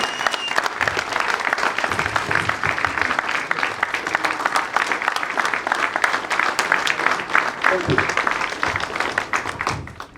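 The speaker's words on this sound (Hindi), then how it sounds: "एक बार जोरदार तालियां होनी चाहिए दोस्तों" Loud, sustained applause from a crowd at an agricultural product launch event in Raipur, Chhattisgarh, as an agriculture trainer is welcomed; dense clapping continues for about ten seconds before fading.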